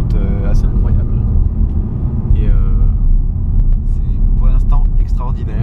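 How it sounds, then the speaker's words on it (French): A 2015 Ford Mustang GT engine purrs in a deep, steady rumble while driving on open roads, loud and close throughout, with voices talking over it. "On a une super voiture qui ronronne."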